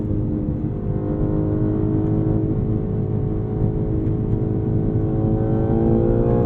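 Steady, loud engine drone from a 2023 BMW M3 Competition xDrive while driving, with a low rumble and harmonic whine rising gently toward the end, heard from inside the cabin with no talking.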